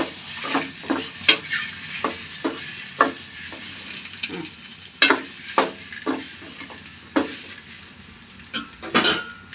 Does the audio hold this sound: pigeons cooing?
no